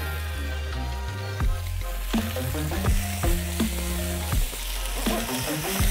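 Roughly cut garlic frying in a pan with rabbit, a loud continuous sizzle with occasional stirring clinks and scrapes, no talk.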